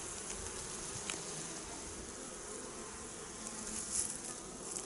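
Honeybees buzzing at an apiary before the summer honey harvest, a dense continuous hum of many insects close by, steady with slight swells, no speech.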